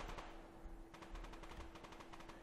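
Gunfire aimed at the player in the online shooter Survarium, a faint rapid string of shots rattling in quick succession over a low steady background hum.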